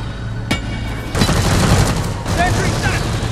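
Rapid automatic bursts from a deployed sentry gun shredding an incoming swarm of alien bugs in Deep Rock Galactic, loud and close, with a sharp crack early on and dense clattering fire that swells and continues under game noise.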